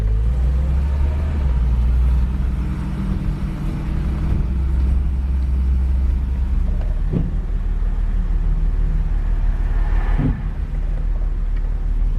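A classic Mercedes, freshly topped up with ATF, drives downtown, its engine a steady close, low rumble with a couple of brief knocks or bumps along the way and no talk.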